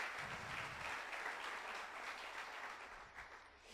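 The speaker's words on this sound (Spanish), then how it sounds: "Denle un fuerte aplauso al Señor entonces." Church congregation applauding during a Spanish-language service, a continuous wash of distant, soft crowd clapping with a low hum underneath, steady throughout.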